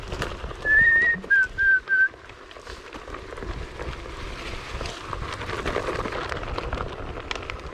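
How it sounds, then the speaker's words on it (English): A honeyeater gives a short series of clear, whistled notes, moderately loud against a faint outdoor background hiss. "That would be a honey eater, I reckon. That noise."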